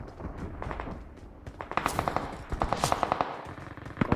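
Rapid bursts of gunfire from a shooting video game, crackling in quick rhythmic volleys of several shots each, with sharper clusters near the middle and end over a busy game background.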